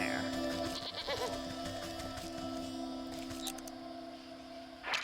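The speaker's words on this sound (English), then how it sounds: "Goat." A goat in the video game Wytchwood gives a few short bleats over steady game music and ambience, with a brief chime near the end.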